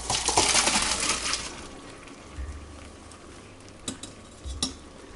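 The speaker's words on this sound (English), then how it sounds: "we're gonna strain out the pasta and the linguine" Cooked linguine poured out and strained in a kitchen, a rushing burst of draining water and clattering at first, then quieter scrapes and a few sharp metallic taps from a fork and pot.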